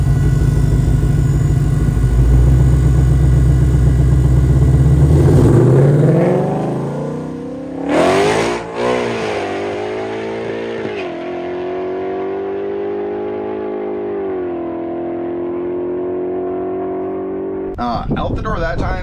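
A supercharged Ford GT500 launches hard down a drag strip, its engine roaring loud and close through a rising surge of acceleration, then the sound sweeps away and fades into a steadier, more distant drone as the car pulls off.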